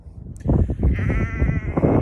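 A sheep in rural England bleats loudly and close up in a long, wavering cry over a busy bed of farmyard noise.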